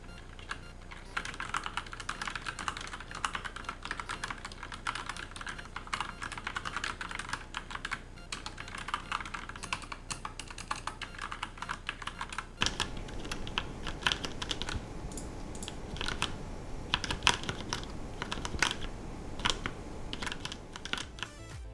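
Typing on a Cooler Master CK350 full-size mechanical keyboard, a dense continuous run of close crisp key clicks and clatter that shifts to a slightly different tone partway through, with no talking.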